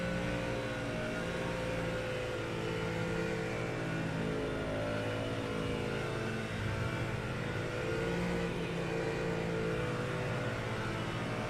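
Race car engines drone steadily throughout under a pace car period in a racing video game, a continuous mid-loud mechanical hum with no clear revving peaks and no voices.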